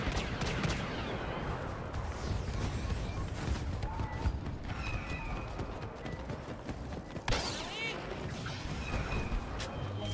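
Blaster fire in Star Wars Battlefront crackles in dense rapid volleys across a busy battlefield, steady and mid-distance, with occasional louder bursts over constant game noise.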